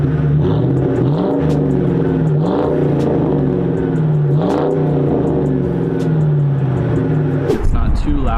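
A 1999–2004 Ford Mustang GT with an SLP Loudmouth cat-back exhaust revs repeatedly, giving a deep, close, rising and falling growl through several throttle blips before ending in a louder low rumble.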